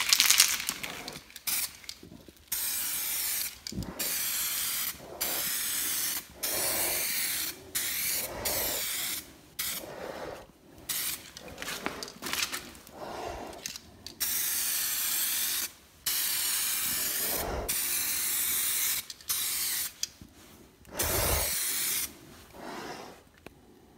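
Repeated bursts of aerosol clear coat hiss onto a restored headlight, a third coat, each spray pass loud and close with short pauses between strokes.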